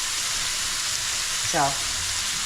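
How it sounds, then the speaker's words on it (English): Meat browns in a pan for unstuffed peppers with a loud, continuous hissing sizzle, and a brief voice cuts in near the middle. "So let me get to browning this up."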